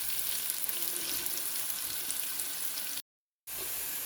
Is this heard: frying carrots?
yes